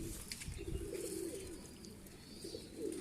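Rooftop pigeons coo in soft, low, rolling repeated calls, fairly close but quiet over a faint background hiss, with a few chirpy flutters mixed in.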